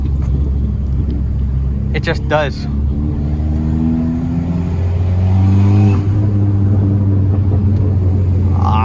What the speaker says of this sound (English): the noises these Fiestas can make